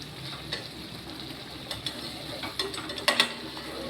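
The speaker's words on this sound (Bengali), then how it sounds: "এটাকে মাঝে মাঝে না নাড়লে লেগে যাবে তলায়, এরকম করে মাঝে মাঝেই নেড়ে দেবেন।" Curry frying in a pan and being stirred now and then to keep it from sticking to the bottom, a low sizzle under a few sharp scrapes and clinks of the spoon toward the end.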